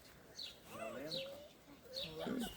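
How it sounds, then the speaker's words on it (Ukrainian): Soft bird calls and chirps repeat a few times over a quiet outdoor background, fairly distant, with no talking. "Дощик моросить, пташки співають."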